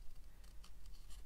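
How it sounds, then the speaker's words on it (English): Scissors snipping through a stamped paper card for a Christmas card project, giving a few soft, close crisp cuts and light paper rustle at low volume. "So I'm going to go ahead and get my scissors,"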